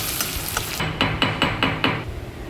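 A small chopped onion and two dried red chillies frying in hot oil, a close crackling sizzle with a run of five or six quick, evenly spaced stirring scrapes partway through.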